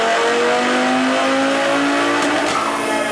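A front-wheel-drive car with a JB4 tune on Map 5 and E35 fuel revving hard on a dyno, a loud, sustained engine roar rising in pitch at close range.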